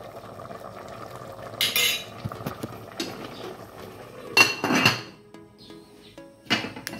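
A lid is set onto a cooking pot of pork kare-kare with eggplant, giving several sharp metallic clanks and scrapes in separate bursts, close and loud, over a quiet simmer.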